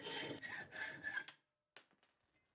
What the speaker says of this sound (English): Now we can cut the donor bolt to the correct length.